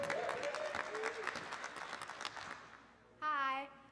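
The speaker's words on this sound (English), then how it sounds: "So a round of applause for your peers." Audience at a community arts and voting event clapping for fellow participants, a dense round of applause that fades out, followed by a brief voice-like tonal sound at the end.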